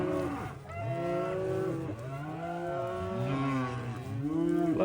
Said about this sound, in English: Bloody good looking Angus cattle.